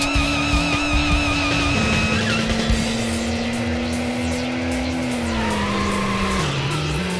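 A car drifting in the Racing Lagoon video game produces a loud continuous engine drone with shifting pitch, overlaid by sustained tire squeal and skidding throughout.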